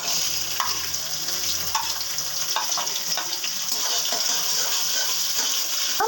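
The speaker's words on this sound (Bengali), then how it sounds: "আমন্ড, কাজু, কিশমিশ, এগুলোকে একটু ঘিয়ে ভেজে নিচ্ছি" Almonds, cashews and raisins fry in a little ghee, giving a continuous close sizzle with scattered light pops and small stirring scrapes throughout.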